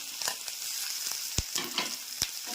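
Sliced onions and green chillies fry in a hot pan with a steady crackling sizzle, broken by a few sharp stirring scrapes, close and alone.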